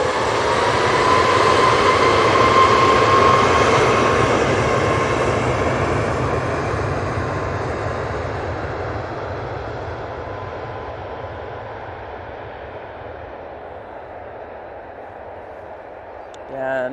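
A Ryanair Boeing 737 MAX 8 departs for Berlin, its broad jet roar loud at first and then fading steadily into the distance, with talk heard over it.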